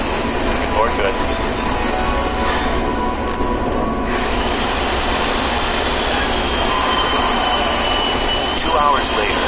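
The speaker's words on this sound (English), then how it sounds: "Otto arrives in jet number 7 to oversee final preparations." A jet aircraft engine gives a loud, steady roar with a high whine, and a voice talks over it.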